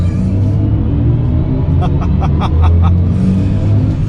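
A BMW i4 M50 electric car launches hard under launch control, a loud, steady low rumble with whining and road noise throughout the cabin, close and continuous.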